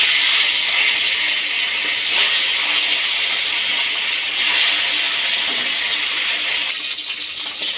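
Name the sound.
bata fish frying in hot oil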